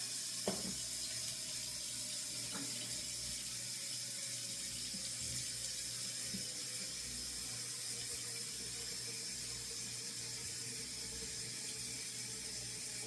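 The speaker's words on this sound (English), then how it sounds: "I'm going to add water" Water runs steadily from a kitchen tap into a pot for rice, a constant close hiss and splash that continues unbroken, with a faint clink near the start.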